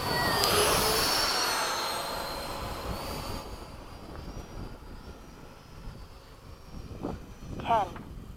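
Freewing 80mm RC jet at an airfield, a loud whooshing turbine roar at the start that fades as the model lands, leaving quiet outdoor ambience with a few brief chirps near the end.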